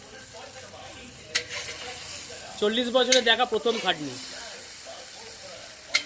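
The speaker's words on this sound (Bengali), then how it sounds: "ভাজা কমপ্লিট হয়ে গেছে, মাংস কষা চলছে" Meat being stir-fried into kosha in a pan at a family birthday gathering hisses and sizzles steadily while someone speaks over the cooking.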